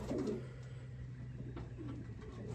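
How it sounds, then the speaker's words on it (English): A pigeon coos softly in low, repeated murmurs, steady and close, over a faint background hum. "It's a pretty little bird."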